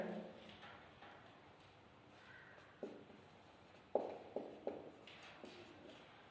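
Writing on a board during a grammar lesson, several faint taps and short scraping strokes in an irregular rhythm over a quiet room, with a brief voice at the start.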